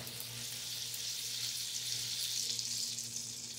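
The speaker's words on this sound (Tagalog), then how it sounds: "we are melting the butter" Butter with a little cooking oil sizzles steadily in a hot pan for chicken afritada, a dense continuous crackle close by with a faint low hum beneath and no talking.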